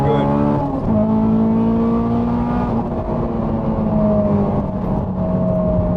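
A Honda S2000 engine with a manual gearbox revs hard and steadily, a loud, continuous rising wail heard from inside the car, with a brief gear-change dip near the start.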